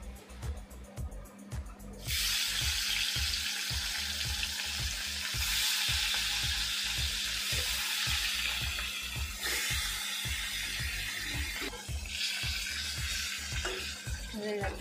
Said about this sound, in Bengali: তেল গরম হয়ে গেছে, এখন মাছগুলো দিব।